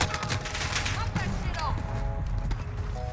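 Bizon submachine gun fire in Modern Warfare, with rapid bursts of automatic shots over game noise and someone talking over the gunfire.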